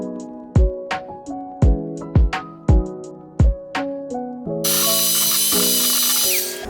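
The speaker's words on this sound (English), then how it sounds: "hand mix with the hand mixer all of the wet ingredients" A hand mixer whirs through wet brownie ingredients in a low-calorie, high-protein batter. Repeated clicking mechanical bursts lead into a steady, loud motor whine that holds to the end.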